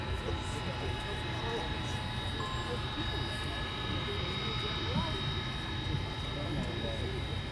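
Avro Vulcan XL426 bomber taxiing on the ground, its jet engines holding a steady, loud, broadband roar for the whole stretch, with people talking beneath the engine noise.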